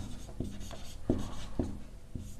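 Writing out a section formula for a class 10 maths lesson: a pen or chalk taps and scratches in short, separate strokes against a steady hum of background noise.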